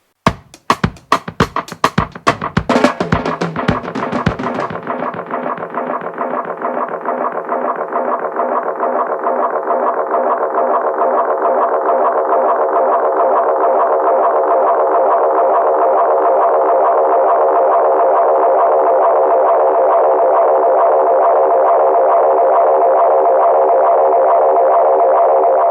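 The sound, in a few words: vintage Roland Space Echo 201 tape echo effect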